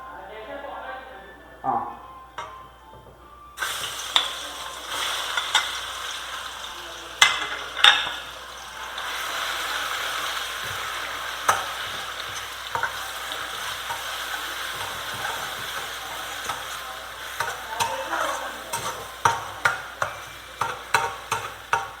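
Crushed shallots, garlic and chilli fry steadily in a pan with a continuous sizzle, broken by repeated scraping and stirring clicks of a spoon against the pan, and a voice talks over it at times.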